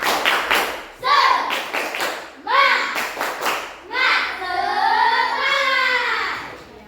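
Schoolchildren in a classroom perform the tepuk semangat chant after a counted start, mixing crisp rhythmic claps with loud group chanting in repeated bursts, close and energetic.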